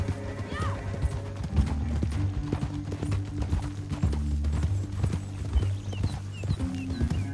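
Horse hooves clip-clop steadily in Red Dead Redemption 2 as riders move along at an easy pace, the rhythmic beats close and clear under ongoing dialogue with a brief whinny.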